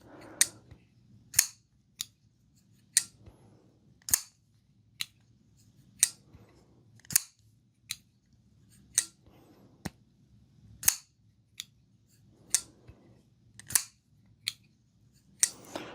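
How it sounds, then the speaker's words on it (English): Repeated sharp metallic clacks of a folding knife's S90V steel blade snapping against its titanium handle, roughly one every second, crisp and close with faint handling noise between. "Very clickety clackety. I think it's mainly the S90V blade hitting into the titanium."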